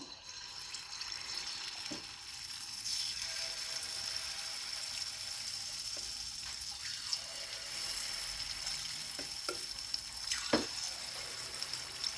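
Spoonfuls of unniyappam batter made with rava and rice flour fry in hot coconut oil, a steady, fairly soft sizzling hiss with a few sharp pops and crackles.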